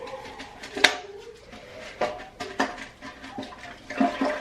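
A toilet flushes during household cleaning, with water rushing beneath scattered close clunks and knocks from the bathroom.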